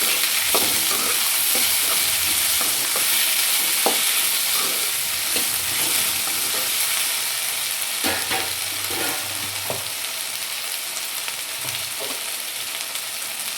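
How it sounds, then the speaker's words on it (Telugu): Potato and carrot pieces with cumin seeds frying in a pan: a steady, loud sizzle with repeated scraping and knocking of a spatula as the pieces are stirred. "ముందుగా కట్ చేసి పెట్టుకున్న ఆలుగడ్డ ముక్కలు కూడా వేసుకున్నానండి ఇలా అయితే ఒకసారి కలుపుకోవాలండి"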